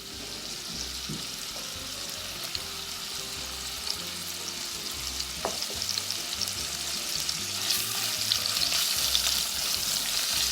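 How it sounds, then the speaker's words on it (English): Meat sears in batches in a little oil in a pan for a Polish hunter's stew: a continuous loud sizzle with stirring scrapes, building slightly louder toward the end, with no voices. "Now we're going to sear the meats, and we're going to work in batches"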